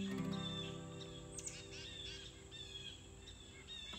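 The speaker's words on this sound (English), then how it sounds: "listen to all those birds" Birds chirp and twitter outdoors against a steady background hum, with scattered calls rising over constant insect-like buzzing.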